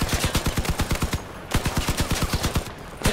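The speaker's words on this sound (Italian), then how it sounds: "C'è uno, mi spara due colpi qua e muoio" Rapid automatic gunfire in the vehicle combat video game Crossout, two loud bursts of evenly spaced shots at a fast steady rhythm, separated by a brief pause.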